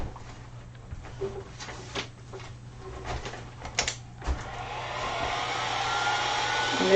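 A hair dryer blows over fresh alcohol ink artwork, starting with a few handling clicks and bumps before the motor's airy roar swells and holds steady, close and loud.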